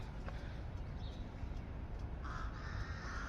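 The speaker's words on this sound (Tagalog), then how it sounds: "Daming uwak o" Crows cawing a few times at a distance over steady outdoor background noise during a morning outing.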